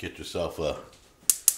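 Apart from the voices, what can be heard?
gas stove burner igniter clicking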